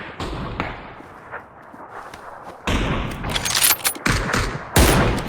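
Sniper and gunfire cracks from a PUBG tournament match, several sharp broadband shots bursting out over a dull in-game background, loud and close, with no talk.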